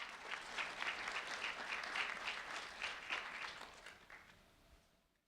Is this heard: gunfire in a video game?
no